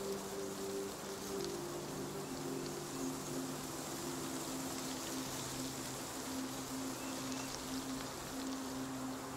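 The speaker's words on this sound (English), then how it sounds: "As you start hearing the rain dink, dink, dink, dink off of Earth." Light rain shower falling steadily, a soft continuous patter with faint low hum beneath, no voices.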